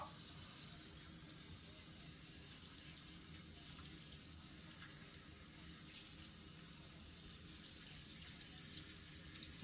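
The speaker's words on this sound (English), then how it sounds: "He's washing his face with soap." Steady, faint running water from a tap flowing continuously while a boy washes his face with soap at a sink, a soft even hiss with no talking.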